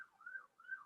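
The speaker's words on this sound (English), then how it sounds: "Listen to those sirens." Faint, distant wailing siren rising and falling in slow sweeps, heard alone against a quiet background.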